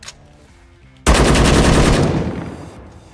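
Gunfire in the Roblox shooter Project Delta, a sudden loud, close burst of rapid shots that fades out over about two seconds after a quiet opening.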